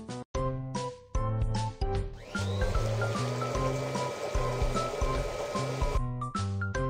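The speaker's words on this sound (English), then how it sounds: "Clean away the dirty water." In a Babybus children's dental game, dirty water is cleared away with a steady rushing, flowing hiss lasting several seconds, sitting under a cheerful looping melody.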